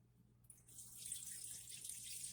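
Moon water poured into a cauldron, a steady soft splashing stream starting after a short pause and continuing to the end, faint and close, with no talk.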